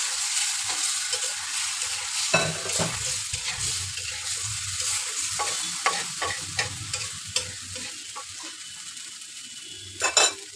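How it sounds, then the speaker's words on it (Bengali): Spices fry in a hot pan for a cucumber and tengra fish curry, a continuous sizzle broken by frequent spatula scrapes and a few metallic clinks against the pan. "মশলাগুলো কিছুক্ষণ কষায় নিয়ে দুই তিন মিনিট দিয়ে দিব"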